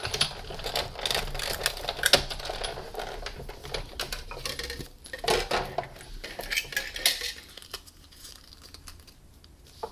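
Paper passing through a die-cutting machine with Starlight Thinlits dies gives a close run of clattering, crinkling mechanical crunches and rattles that grow quieter toward the end.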